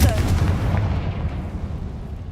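A blasting spell is cast in a video game, bursting out as a loud, close boom at the start and trailing off into a rumbling, crackling decay, with a voice faintly present.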